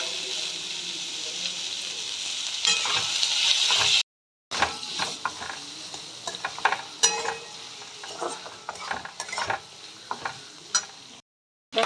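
Capsicum, beans and grated ginger fry and hiss in a pan while a spoon stirs with scattered scrapes and knocks, the sizzle steady apart from short silent breaks.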